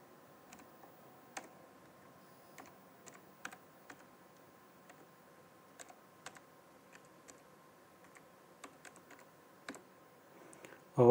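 Someone types on a computer keyboard, quiet scattered keystrokes in short bursts and single taps across a faint steady hum, and a louder thump comes right at the end.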